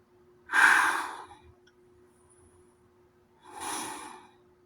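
Two loud, close breaths drawn through a Chinese-made NBC respirator mask, a long hissing inhale then a pause and a second, softer breath, with a faint steady hum underneath and no talking.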